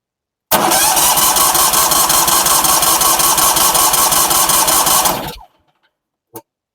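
The small engine of an RC flail mower starts and runs: a loud, close, rapidly pulsing buzz that holds steady for about five seconds, then cuts out, leaving silence and a couple of faint knocks.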